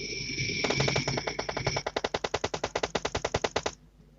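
Machine gun fire in a battle royale video game: a rapid burst of evenly spaced loud shots, starting with continuous fire and ending in a clear rat-a-tat run before cutting off, no talk.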